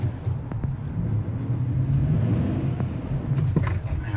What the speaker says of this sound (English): This thing revs quite a bit in four low.